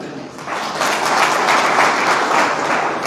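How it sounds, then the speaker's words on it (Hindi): Steady applause from a crowd at a Haryana party workers' gathering, swelling after a brief softer start and holding loud and dense throughout. "इसके लिए हमें तालियां भी बजानी चाहिए।"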